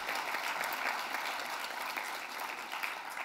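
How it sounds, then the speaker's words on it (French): Audience applause at an official celebration for the Essonne department's 20th anniversary, a dense steady patter of clapping held at an even level for a few seconds with no voices over it. "et je voudrais saluer Jean-Marc Grenier, et on peut l'applaudir aussi, Jean-Marc, pour le travail qu'il réalise."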